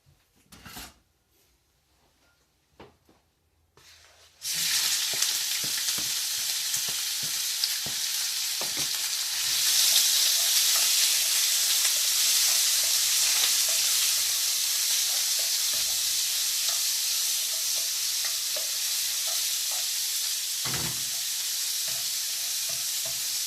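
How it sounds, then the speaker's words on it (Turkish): Liver pieces frying in about a tablespoon and a half of olive oil in a pan, a loud continuous sizzle that starts abruptly after a few quiet clinks and holds steady with occasional stirring scrapes. "Şimdi ciğerlerimizle yağımızı buluşturduk. güzel Güzelce kavuruyoruz arkadaşlar."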